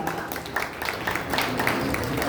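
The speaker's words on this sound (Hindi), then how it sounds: "एक बार फिर उनके लिए जोरदार तालियां" A dense wash of clapping from an audience at a children's Arya Samaj programme in Bangalore fills the room steadily at moderate loudness, continuing without a break.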